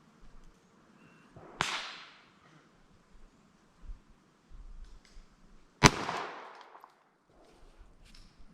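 Two loud, sharp gunshots from a Clerke 1st revolver crack outdoors several seconds apart, each followed by a short ringing decay, with quiet rustling and handling noise between them.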